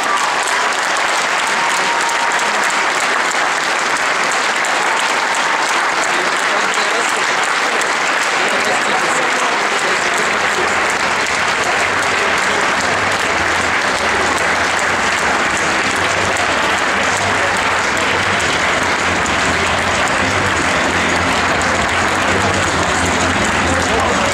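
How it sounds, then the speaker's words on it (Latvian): At a Latvia Open 2012 award ceremony, an indoor audience gives loud, sustained applause, a dense clatter of many hands clapping throughout and growing fuller partway through. "Aplausi!"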